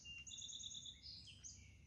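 Quick, high-pitched bird chirps in short repeated trills over a low background hum, faint and somewhat distant.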